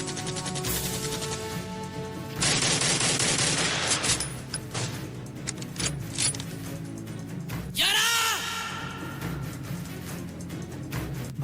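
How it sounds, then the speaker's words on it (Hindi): Bursts of staged gunfire effects ring out during a live youth-wing stage play about a military operation, with rapid rattling volleys and a louder crash near the end, loud and echoing in a hall. "तुम लोग मुझे सिर्फ कवरिंग फायर दो"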